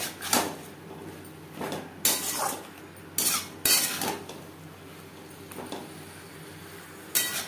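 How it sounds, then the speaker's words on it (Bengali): A spoon stirs eggplant into spices in a metal cooking pan, with repeated close scraping and clanking knocks against the pan at an irregular rhythm over a steady low hum. "মশলার সাথে বেগুন বেশ ভালো করে মিক্সড করে দেব।"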